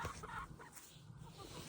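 A backyard flock of chickens clucks softly outdoors in fresh snow. The calls are faint, scattered and partly buried in steady background noise.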